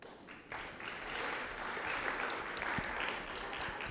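Broad, washy applause from an audience at a school moving-on ceremony during name readings, rising after a moment and holding at a moderate, somewhat distant level.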